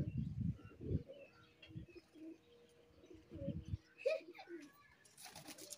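A black pigeon coos in several low, throaty bursts close by, with a voice and faint chirps in the background.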